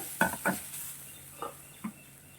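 Grated coconut stirred into a prawn curry in a pan, with four short scraping stirs spaced apart over a steady low background hiss, fairly quiet and close.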